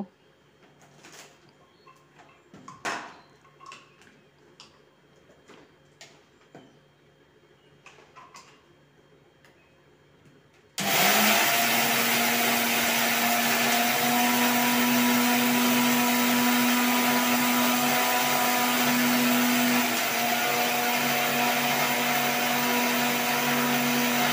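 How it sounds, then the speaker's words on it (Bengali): An electric mixer grinder grinds sun-warmed roasted cumin seeds, starting abruptly after a stretch of quiet room noise and then running as a loud, steady whir that holds without a break to the end. "এই যে এখন মিক্সিতে দিয়ে এটা আমি মিক্সি করে এখন চেলে নেব"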